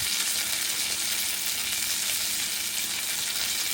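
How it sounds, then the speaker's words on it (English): Pork belly skin sizzles and spits steadily in a hot pan, a dense continuous frying hiss at close range with no talk over it. "try and fry up that skin a little bit"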